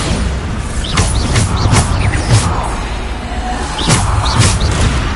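Bombarda explosion spells in the Hogwarts Legacy video game, several booming blasts and thuds at a steady fast pace amid combat noise, loud and close.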